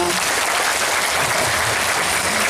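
Audience applause at an Indonesian parenting seminar in a Palembang Islamic boarding school, a dense, steady wash of clapping filling the whole stretch with some voices mixed in.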